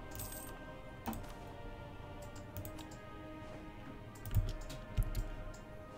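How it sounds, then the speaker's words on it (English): Clicking in a room used for streaming, with scattered sharp keyboard-like clicks and taps, a few louder knocks near the end, over a faint steady hum in a quiet space. "Is there a loud clicking noise in your room?"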